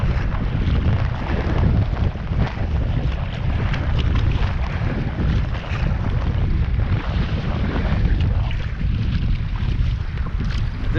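Choppy waves slap and wash against a pack raft on open water, a continuous, loud rush heavily mixed with gusting wind buffeting the microphone.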